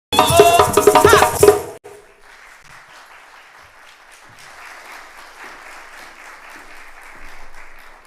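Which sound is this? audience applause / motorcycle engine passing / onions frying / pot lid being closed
audience applause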